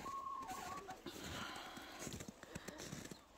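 Birds calling outdoors on a frosty, snowy winter day, faint chirps and clucking notes scattered through the clip over soft background noise.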